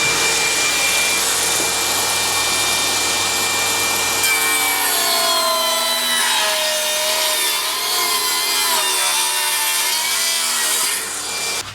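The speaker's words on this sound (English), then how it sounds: "So I'm just going to go ahead and cut this piece down the middle and table saw." A table saw rips a walnut board lengthwise down the middle, a loud steady whine and rasp of blade through hardwood that shifts pitch partway through and cuts off at the end; no one speaks.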